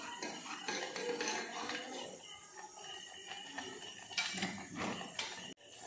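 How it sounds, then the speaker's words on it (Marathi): A spoon stirs a momo chutney of oil, salt and a spoonful of sugar in a bowl, making steady close clinks and scrapes that run throughout with a brief pause near the end. "छान मिक्स करून घेऊया."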